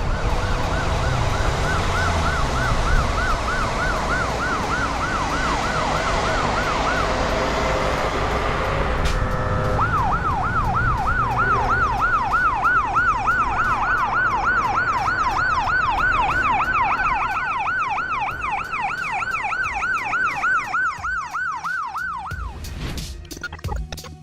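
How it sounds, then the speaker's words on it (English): An ambulance siren wails in traffic, loud and continuous, switching partway through to a faster cycling yelp, with road and engine noise underneath. "the ambulance has to move in the lane with the rest of the cars, even though the siren is on"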